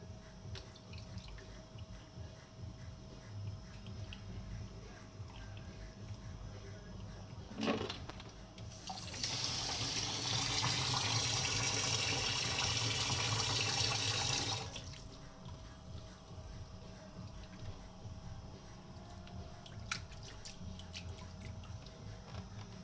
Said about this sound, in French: Là, je commence à laver le couscous.